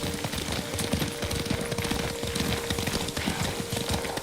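Horse hooves clip-clop in a brisk, steady rhythm during a ride in the video game Ghost of Tsushima, loud and close throughout with no talk over them.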